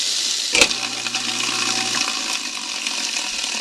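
A kitchen sink garbage disposal grinds a lemon and a few chunks of ice with water running, giving a steady, rushing, broadband roar close to the microphone.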